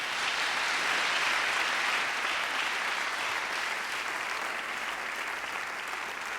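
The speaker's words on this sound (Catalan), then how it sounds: "un aplaudiment" An audience at the Vinari 2020 Catalan wine awards gala applauds a prizewinner, with steady, full clapping from a large room that tapers slightly toward the end.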